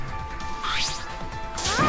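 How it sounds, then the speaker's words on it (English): In the Danganronpa V3 video game, an electro hammer comes down on a control panel: a sharp swooshing smash followed by a second bright crash, layered over a busy game soundtrack, with no voices. "Kaito swung the electro hammer and smashed it down onto the control panel."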